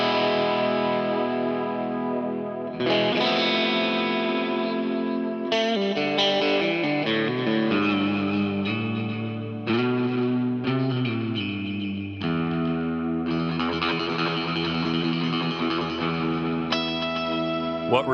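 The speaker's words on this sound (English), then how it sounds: "What reverb did you put on there? That is the Strymon Volante." Electric guitar chords and picked notes through a Strymon Volante reverb pedal, drenched in lush reverb and effects, ringing out with long washy tails, played continuously with no talking.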